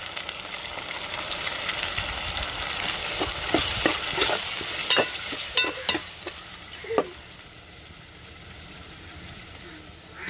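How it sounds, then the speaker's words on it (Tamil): Onion frying with ginger-garlic paste and tomatoes for a village-style mutton curry. A steady, soft sizzle runs throughout, broken by a cluster of sharp spoon scrapes and clinks in the middle, then settles to a quieter hiss. "நம்ம இஞ்சி வெள்ளப்பூட அரைச்சி வச்சதை சேர்த்துக்கிறோம் தக்காளி பழம் சேர்த்துக்கிறோம்"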